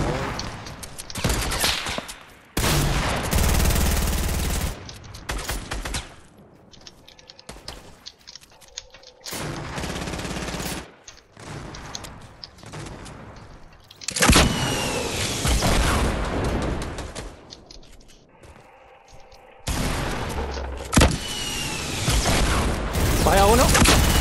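Gunfire in Fortnite, with loud bursts of rapid shots and booming blasts in several clusters separated by quieter gaps, alongside voices talking.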